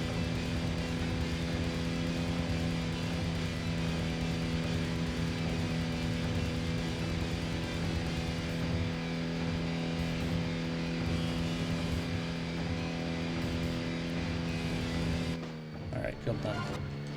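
A street racing car in Tokyo Xtreme Racer Zero holds a steady engine drone with no break for most of the stretch, then cuts off near the end. A voice talks over it.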